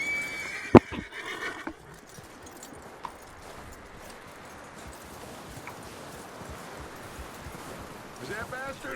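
A horse in Red Dead Redemption 2 gives a sharp whinny near the start and another toward the end, over a quiet windy outdoor backdrop with a few soft thumps.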